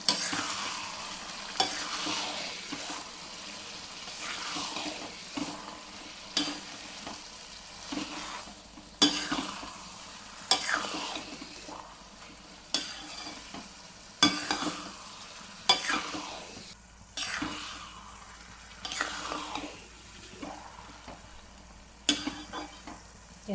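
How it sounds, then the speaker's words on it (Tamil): Amla gooseberry pickle fries in oil while a spoon stirs and scrapes the pan in repeated strokes, with sizzling underneath the whole time. "சிம்லேயே வச்சு கிளறிக்கிட்டே இருங்க."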